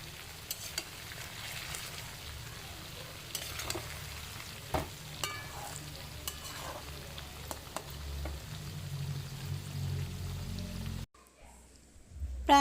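Chandramukhi potatoes being mixed in hot oil in a pan, a soft continuous frying sizzle with occasional light clicks of a stirring utensil, fairly quiet, ending in a short silence.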